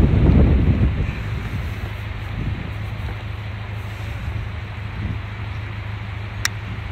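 Strong wind buffeting a flying drone over the Snow Summit and Bear Mountain ski resorts, a loud steady roar of rushing air with a heavier gust at the start.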